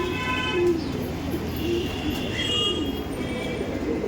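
Pigeons cooing inside a loft, low soft coos repeating over a steady, noisy background hum, fairly faint and continuous with no voices.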